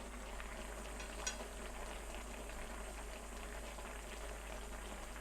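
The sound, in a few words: Korean tofu jjigae broth boiling in pan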